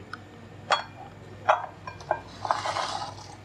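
Chopped apple pieces tumble into a bowl for fruit chaat, a few light clinking knocks spaced about half a second apart, followed by a softer rustling clatter, close and fairly quiet with no talking.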